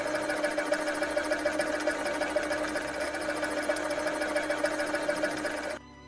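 A sewing machine runs in a rapid, continuous mechanical stitching whir with a faint rhythmic pulse, steady and fairly close, then stops abruptly near the end; no one speaks.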